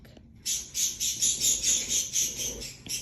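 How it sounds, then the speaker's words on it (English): Loud, rapid chirping from pet birds close by, pulsing in a steady rhythm of bursts with no talking. "my birds are like so loud"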